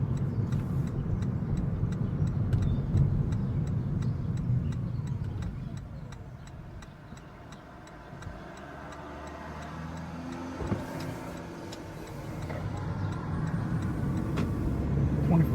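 A 2017 Toyota Prius hybrid rolling along a short street in EV mode, quiet road and tyre hum inside the cabin with a steady ticking turn signal, no engine note, fairly soft throughout.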